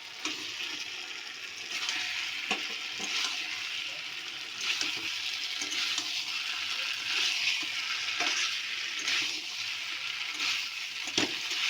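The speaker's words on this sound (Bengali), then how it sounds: "এবার দেবো কচুটা, ভাজা কচুটা।" Fried taro pieces sizzle in oil-released spice paste in a pan, a steady broadband frying hiss with occasional stirring scrapes and clicks, fairly close and continuous.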